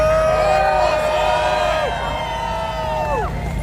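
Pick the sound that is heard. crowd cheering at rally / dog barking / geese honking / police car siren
crowd cheering at rally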